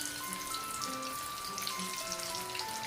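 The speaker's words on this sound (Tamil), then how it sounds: "இப்போ ஒவ்வொன்றை ஒன்றா நாங்கள் போட்டு எடுப்போம் மெல்லமாக ஒன்றோடைய ஒன்று முட்டாத அளவுக்கு நாங்கள் போட்டு பொரித்து எடுப்போம்" Soya kola balls deep fry in hot oil, a steady, moderately quiet bubbling sizzle with fine crackle that continues unbroken throughout.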